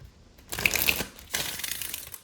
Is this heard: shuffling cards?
yes